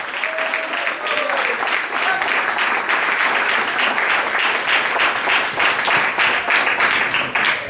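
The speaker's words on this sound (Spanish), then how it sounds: "Dele palmas bien para el Señor." Sustained, energetic clapping from a church congregation praising the Lord, dense and rhythmic throughout with occasional voices mixed in.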